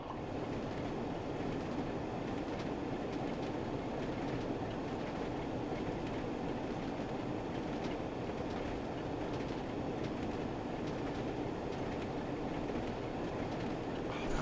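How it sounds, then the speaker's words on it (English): A train rolls downhill toward Manchester in Train Sim World 3, its wheels giving a steady, dense rumble with faint rhythmic clicking throughout, continuous and even. "just the clickety clack, clickety clack, clickety clack"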